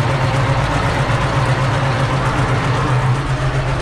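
Heavy tractor engine running steadily at close range, a constant low diesel rumble with no pauses and no voices.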